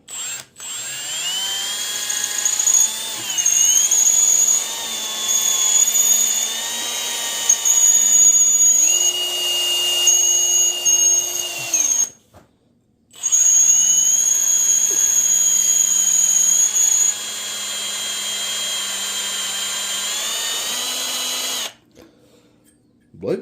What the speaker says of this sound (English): Sometimes you're better off doing it in a vise with a hand drill.